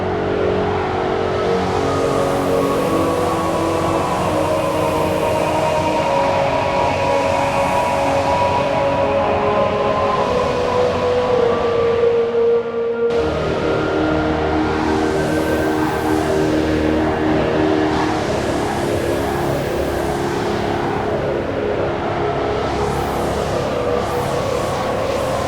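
A preset patch on the VPS Avenger 2 synthesizer, built from a voice layer and a noise layer: a dense, sustained, gritty tone with sweeping, pulsing overtones that cuts off briefly midway, then resumes, loud and constant throughout.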